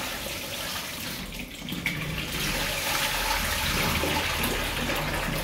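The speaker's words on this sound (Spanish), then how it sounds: "Primero que nada vaciamos el agua." Soaking water is poured off a batch of orange segments while making homemade orange preserve, a steady rushing and splashing of liquid that runs for the whole stretch and swells slightly louder partway through, with no talking.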